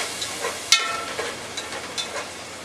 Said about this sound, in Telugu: బాగా వేగేదాకా పచ్చి వాసన పోయేదాకా మంచిగా కలుపుకోవాలి దీన్ని